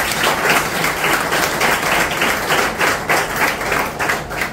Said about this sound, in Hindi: आइए प्रभु यीशु के लिए एक जोर से ताली बजाएं।